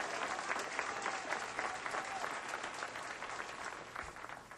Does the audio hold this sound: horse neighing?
no